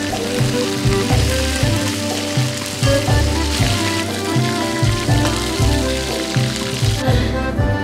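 Dense, steady crackling and spattering of sardines frying in hot oil, a continuous sizzle with small pops throughout.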